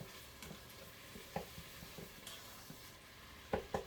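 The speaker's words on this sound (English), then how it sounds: "Add the carrots and celery and saute for 5 minutes." Carrots and celery sauteing with sausage in an Instant Pot, a low steady sizzle broken by several sharp stirring scrapes and clacks, close and alone with no talk.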